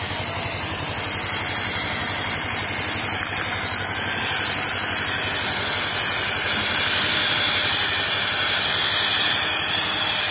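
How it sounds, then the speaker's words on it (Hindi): Wood cutter machine sawing through logs at a work site beside rice paddies, a loud continuous engine roar with a harsh hissing edge that holds steady throughout, close by, with no talking. "ये देखिए मारा भाई कटर से ये लकड़ को काट रहा।"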